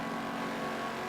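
A car drives past in Forza Horizon 3 on an Australian road trip, a steady close engine drone holding level for about a second.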